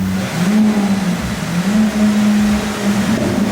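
A Lamborghini Aventador engine holds a loud, steady drone on a dyno, its pitch dipping and rising slightly through a brief pull, close and continuous, with no talking over it.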